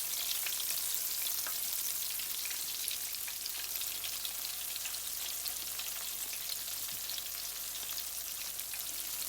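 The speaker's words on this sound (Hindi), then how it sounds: "इसी तरह मैं आलू को बेसन में डिप करके इसमें डालूँगी।" Gram-flour-battered potato pakoras deep-frying in oil, a steady dense crackling sizzle like rain, close and even for the whole stretch with no talk.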